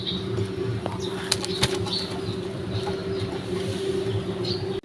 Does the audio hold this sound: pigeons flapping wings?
yes